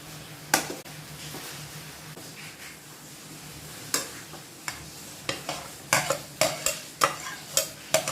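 Carrots, ginger, garlic and cumin stir-fry with soy sauce and chili soy sauce for veg fried rice, a soft background sizzle punctuated by rhythmic spatula scrapes and taps that quicken toward the end.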